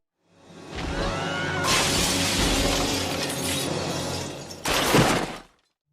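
A window's glass shatters as a person is thrown through it, a loud sustained crash of breaking panes followed by a second sharp burst of falling shards.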